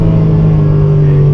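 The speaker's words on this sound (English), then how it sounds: "You just like holding it up at the top of the RPMs and letting that noise come through." A car engine held near the top of its rev range, a steady loud drone with a strong sustained tone and little variation, heard close and alone.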